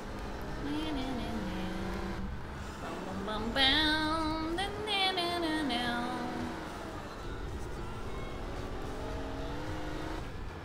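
Race cars in GTA San Andreas drone steadily, with the engine pitch rising and falling as they accelerate and shift. A voice speaks over the engines throughout.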